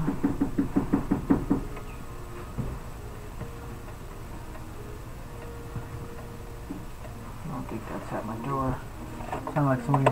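Knocking sounds in a home kitchen during cooking as a quick run of loud raps, followed by a quieter stretch and another burst of knocks, with a voice talking throughout.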